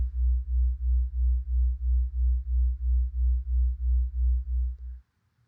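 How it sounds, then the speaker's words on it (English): Low steady binaural delta-wave tone pair with a 3 hertz difference, throbbing in a slow, regular pulse of roughly three beats per second for about five seconds before cutting off into silence. "This is what a delta wave sounds like. It's 3 hertz difference. So you hear that slow beating."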